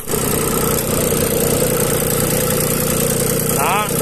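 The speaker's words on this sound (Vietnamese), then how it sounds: "Đó, động cơ Hinomoto ha." A Hinomoto 17hp Japanese tractor engine with a tiller attachment runs at a steady idle, a loud, continuous mechanical drone close to the listener with no pauses.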